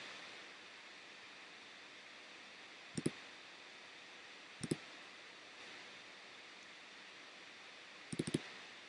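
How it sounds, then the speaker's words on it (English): A computer mouse clicks while an image is being edited, three brief, sharp clicks or double clicks spaced several seconds apart over faint steady background hiss. "I'm going to click edit."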